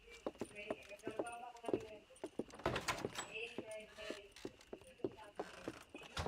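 Horse hooves clip-clop at a steady walking rhythm in the Western video game Red Dead Redemption, with jangling tack and faint game ambience. Someone talks over the hoofbeats.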